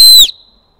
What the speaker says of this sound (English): that's just one blast of this whistle